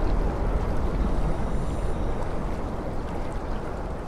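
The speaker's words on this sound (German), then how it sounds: "hier kommt schon mal ein bisschen schwackes Strömung ran. Hört sich an wie Wind unter Wasser." Underwater current in the sci-fi horror game Soma: a loud, steady whooshing rumble like wind beneath water, continuous and unbroken throughout, with no voices.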